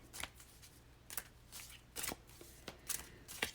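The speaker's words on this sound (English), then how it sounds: "Give it a shuffle first" A deck of cards is shuffled in several quick, crisp riffling bursts separated by short pauses, close and fairly quiet.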